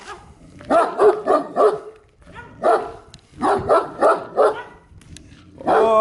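Dogs barking in a residential neighbourhood, loud and close, in rapid clusters of three or four barks separated by short pauses, with a final burst at the end.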